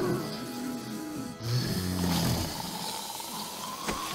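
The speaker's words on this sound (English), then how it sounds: "It sounds like it's snoring." A zombie in the survival video game 7 Days To Die gives off a low, rumbling snore-like growl under a steady background hum, with a louder snorting rasp partway through.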